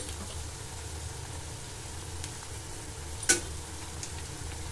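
Onions frying in oil for chicken fry while being stirred, a soft steady sizzle with an occasional faint scrape and one brief sharp clink of the spoon against the pan.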